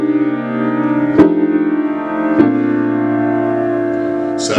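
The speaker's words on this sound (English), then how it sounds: "The 7, 9, 3, 5 sounds like this." A jazz chord voiced seventh, ninth, third and fifth, sounded on a sustained keyboard-like instrument, struck three times at even intervals with the notes ringing on between strikes, loud and clear with no talking.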